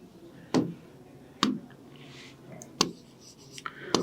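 Chalk or marker writing on a board during a chemistry lesson, heard as a few sharp, separate taps and scrapes against quiet room tone.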